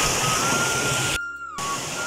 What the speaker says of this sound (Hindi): यहाँ से पानी दे रहा है